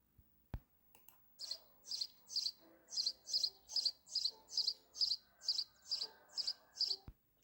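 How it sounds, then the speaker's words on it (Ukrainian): High, rapid chirping from baby birds, repeated in regular bursts about every half second, fairly close and with no talking. "Це звуки пташенят."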